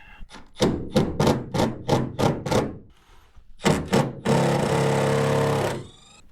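Plastic carpet trim pieces being pried and snapped off inside a 1950 Ford F1 cab: a rapid series of about ten sharp knocks and cracks, then a longer harsh scraping rasp, close up with no talking.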